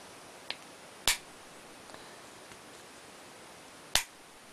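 Trigger pulled on a Brun Latrige 12-gauge shotgun as the hammers fall, two sharp metallic snaps about three seconds apart plus a faint small click before, close in a quiet room.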